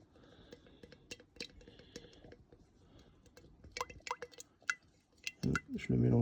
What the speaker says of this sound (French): Je le mélange bien comme il faut.